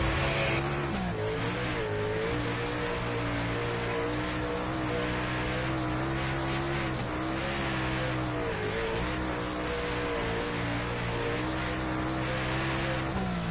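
A race car lapping in a sim racing game on PS5, the engine droning steadily with rising and falling revs and occasional tire squeal, loud and continuous with no one talking.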